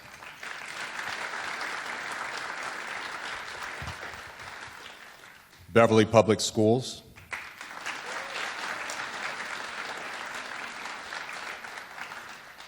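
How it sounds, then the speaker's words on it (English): An audience at a Martin Luther King Jr. Day event in Beverly applauds warmly for several seconds, then a speaker's voice briefly cuts in before the steady clapping resumes. "We give them a round of applause."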